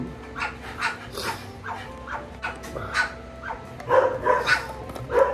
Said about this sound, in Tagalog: Tumatahol yung isa, oh.